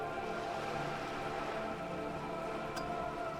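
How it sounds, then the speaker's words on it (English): Steady rain from the Disco Elysium video game falls on wooden boards and surrounding water, a constant soft hiss with faint pattering that stays even throughout. "All around you, rain keeps falling down. On the wooden boards she's standing on, and on the water around you."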